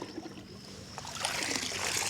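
Water poured from above into a jerrycan holding herbicide to mix a weedkiller solution, a continuous gurgling trickle and splash that grows brighter and fuller over the last second, close by and steady.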